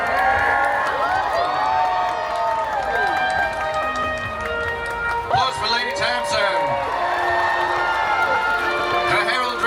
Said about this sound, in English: Applause for Lady Tag.